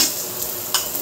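Garlic sizzles in a hot pan, a steady close crackle with a brief sharper burst of frying partway through, no talk over it.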